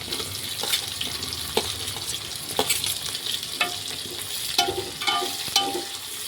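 Onions frying with ginger garlic paste in a pan for village-style khichdi, giving a continuous sizzle with irregular spatula stirs and clinks, close-up and without talk.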